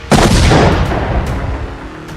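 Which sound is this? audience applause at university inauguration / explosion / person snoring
explosion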